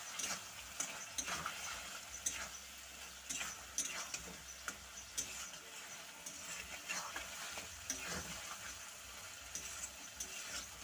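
Okra and potato masala curry is sautéed in a pan, giving a soft continuous sizzle. Scraping stirs and small taps recur throughout, faint and close by, with no speech.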